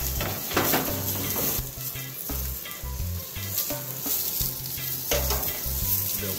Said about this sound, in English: get some of the asparagus going here with some shallot oil